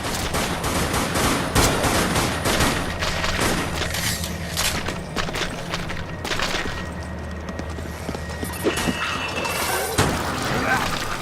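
Gunfire in the video game Dead Nation pops zombie heads, a dense rapid stream of shots, bursts and splattering impacts under game music, with someone talking over it.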